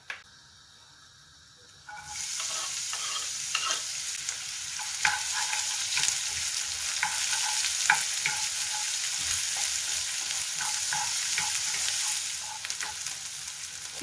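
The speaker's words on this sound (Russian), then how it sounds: "А на этой сковороде я обжарю лук." Onion fries in oil in a pan, a quiet start giving way after about two seconds to a loud, steady sizzle and hiss broken by occasional stirring clicks, with no talking.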